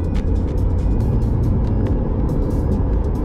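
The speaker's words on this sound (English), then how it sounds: "On comfort, this car is really running really, really smooth" A Corvette C8 sports car cruises smoothly, heard from inside as a steady low road and engine rumble, constant and fairly loud, with no voices present.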